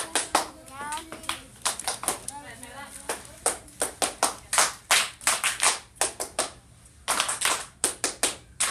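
Hands clap in uneven bursts of sharp, close claps with short pauses between groups, while a voice talks over them.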